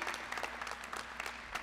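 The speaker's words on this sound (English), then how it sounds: "Let's clap it up for WNET." Audience applause at a Brooklyn Community Board 5 meeting, a brief burst of many hands clapping in a room, fairly faint and steady.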